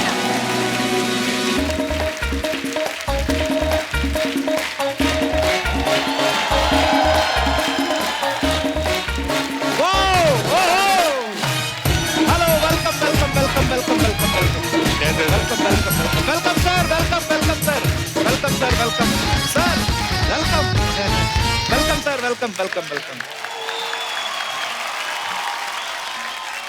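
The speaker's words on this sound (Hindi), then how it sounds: "जोरदार तालियां" Loud studio audience applause greets the cast of Hungama 2 on a comedy talk show, a dense sustained roar of clapping layered with music and a brief spoken welcome.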